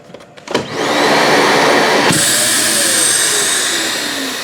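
A small built-in dustpan vacuum motor in a 2022 XLR Hyper Lite 3016 toy hauler kicks on with a thump and runs as a loud, steady whine with a high-pitched hum, close and continuous.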